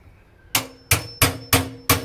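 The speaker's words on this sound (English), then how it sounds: "Always a good idea to get her in the hole before you hammer." Hammer driving a wheelbarrow axle into place, five sharp metallic strikes in quick, fairly even succession, each ringing briefly, close and loud.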